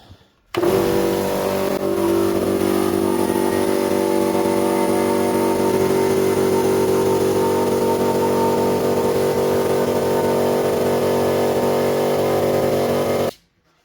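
A new two-cylinder air compressor runs for the first time with a loud, steady mechanical drone that starts abruptly, holds at an even pitch with a rapid pulsing chug for about thirteen seconds, then cuts off.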